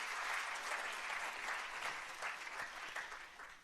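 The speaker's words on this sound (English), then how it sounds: "let's give a round of applause for Walmart for their support" A live audience claps steadily in a round of applause for a sponsor at a book-program kickoff event in Philadelphia, a dense, even patter that holds for several seconds and tapers slightly at the end, with no talking over it.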